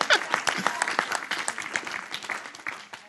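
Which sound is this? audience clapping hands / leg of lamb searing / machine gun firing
audience clapping hands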